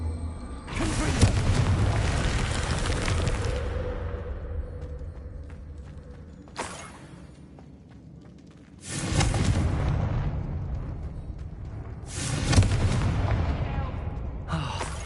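Confringo blasting spell explosions in the video game Hogwarts Legacy: three loud booming blasts spaced several seconds apart, each with a long rumbling decay, plus a brief sharper crack between them, with a voice faintly present.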